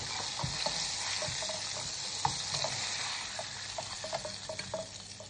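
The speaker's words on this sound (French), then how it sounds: "Donc en fait, tu les mets à frire quelques minutes." Sardines fry in hot oil, giving a steady close sizzle and bubbling crackle with scattered pops and light stirring clinks throughout, no voices present.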